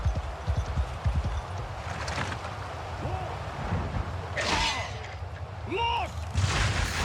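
Gunfire in the medieval combat game Voor De Kroon, a few sharp shots and bursts standing out over a busy battle din of clattering hooves and movement, with short whistling tones near the middle and end.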